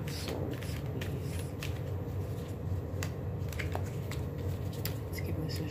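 Tarot cards are shuffled by hand, a steady rustling and riffling of card stock with scattered soft flicks, close and continuous over a low background hum.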